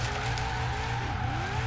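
A car drifts with the e-brake in the Forza Horizon 3 racing game; a loud, continuous engine drone blends with squealing tires throughout.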